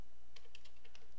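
Several crisp computer keyboard keystrokes in a short, uneven burst while entering a date into a form field, close and fairly quiet with no talking.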